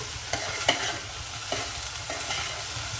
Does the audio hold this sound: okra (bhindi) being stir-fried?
yes